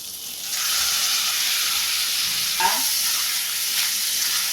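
Onion frying in a pan for capsicum pulao, a steady broad sizzle running from about half a second to the end with a brief stirring clatter midway, close and fairly loud, no talk.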